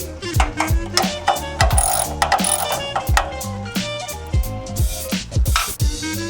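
A ratchet wrench unscrews rusted bolts on a travel trailer's tongue jack, fast repeated metallic clicking in rapid bursts with short pauses, close and loud throughout.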